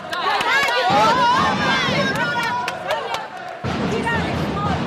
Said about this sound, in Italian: i tifosi di Vicenza si sono fatti sentire con i loro tamburi